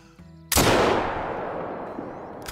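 A single sharp hunting rifle shot rings out in the video game Call of the Wild, loud and close, with a long reverberant tail rolling away across open country.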